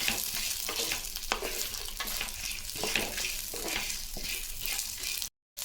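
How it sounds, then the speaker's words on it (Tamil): Chilies and spices sauté in a pan over a low flame for black-stone goat-leg curry, giving a steady close sizzle with scattered crackles and stirring scrapes before a brief silence near the end. "சிம்மில் வச்சுட்டு ஒரு அஞ்சு நிமிஷம் எல்லாத்தையும் சேர்த்து நல்லா வதக்கலாம்"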